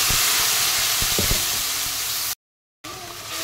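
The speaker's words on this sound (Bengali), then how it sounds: "আর পেঁয়াজটা একটু নেড়ে চেড়ে ভেজে নিলাম, তেল ছেড়ে দিয়েছে" A paste of ginger, garlic and onion fries in hot oil, giving a loud, steady hiss with a few soft stirring knocks, then a short silent gap before the sizzling resumes.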